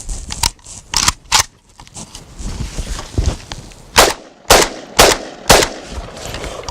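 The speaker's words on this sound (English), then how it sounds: "We're going to fire off some rounds just to make sure that we're okay unfouled." Sharp gunshots from an AK-47 Kalashnikov rifle, fired in a loose series of loud, close single cracks with short gaps, and the last several reports come at an even spacing.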